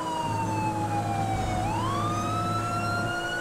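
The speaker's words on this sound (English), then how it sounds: "They had the same siren I did." A wailing police siren in GTA 5 sweeps down and back up over a steady engine hum, fairly close and continuous throughout.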